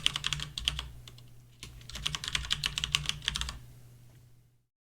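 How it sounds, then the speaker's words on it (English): Rapid bursts of typing on a computer keyboard come in two clustered runs separated by a short pause, close and clear, then fade to silence. "It would be nice if I could actually type in the box correctly."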